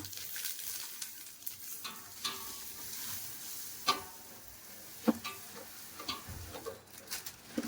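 Puffed rice (mamra) tipped into a hot pan with turmeric and stirred, giving a soft, steady sizzle with light crackles and a few sharp scrapes and taps of the spoon, close and fairly quiet.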